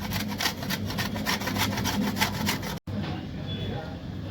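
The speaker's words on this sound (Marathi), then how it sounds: "तर ह्याला मी थोडंसं तर किसून घेते" Dried coconut grated by hand for a chana masala spice paste, a close, rhythmic rasping scrape repeated about a dozen times before a brief break and quieter handling.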